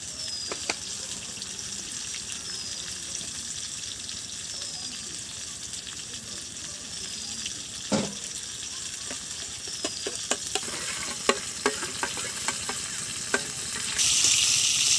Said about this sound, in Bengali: আলুটা আর বেগুনটা ভাজা ভাজা হয়েছে